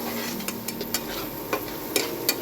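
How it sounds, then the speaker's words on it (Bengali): Poppy seed paste sizzling gently in a pan for pabda fish curry, with soft continuous frying hiss and occasional light clicks of a spoon stirring against the pan. "এবার এটা আমি হালকা একটু কষে নেবো"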